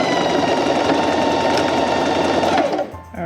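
A sewing machine stitches denim shorts cut from old jeans, with a loud, continuous motor whir close by that stops abruptly near the end.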